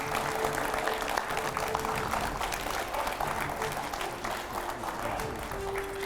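Studio audience applause welcoming a guest on a TV news set: sustained, fairly even clapping from a crowd, with a voice talking over it.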